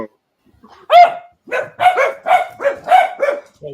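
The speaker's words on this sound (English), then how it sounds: "Your dog." A dog barks repeatedly, starting with one loud yelp and then a rapid run of sharp, close barks in quick succession, heard alone without talk.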